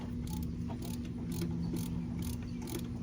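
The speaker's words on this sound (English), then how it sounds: "Getting the third bolt out." A socket wrench works the third bolt loose on the AC compressor of a 2008 Acura MDX, sounding as a steady run of faint, quick ratchet clicks over a low engine-bay hum.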